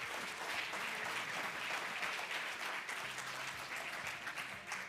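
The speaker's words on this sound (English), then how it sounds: "give all of them a round of applause" An awards ceremony audience applauds steadily, a dense, even wash of many hands clapping that holds at moderate loudness throughout without speech.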